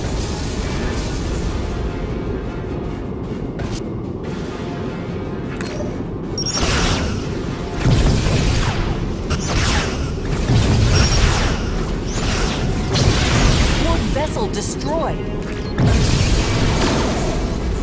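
A Borg vessel blowing apart in the Star Trek Legacy space battle game, loud rumbling booms and bursts layered over continuous mechanical battle noise.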